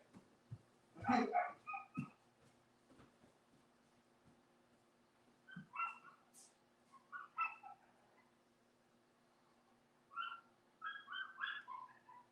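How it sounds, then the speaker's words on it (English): A neighbour's dog barks and whimpers in short, high bursts from somewhere off at a distance, in three separate groups with quiet gaps between them. "It's the neighbor's dog."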